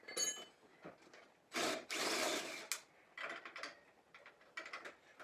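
A castle nut being screwed down on the upper control arm of a Tao Tao ATK 125 go-kart, with scraping, rasping metal-on-metal turns in several bursts, close and fairly loud.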